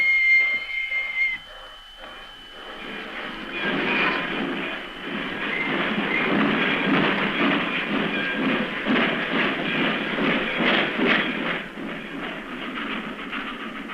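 A train rolls along as an old 1930s radio-drama sound effect, a steady chuffing, rumbling clatter after a brief whistle, growing louder and sustaining at a moderate distance.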